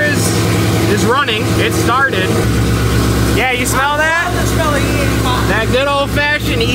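A freshly started car engine running on E85 idles loudly and steadily up close while people talk excitedly over it.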